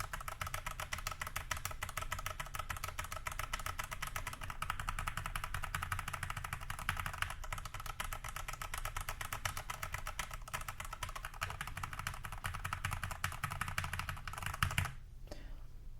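Fast, continuous typing on an iLovBee i61 mechanical keyboard fitted with a tape mod, a close, dense stream of clacky keystrokes with no talk, ending abruptly near the end.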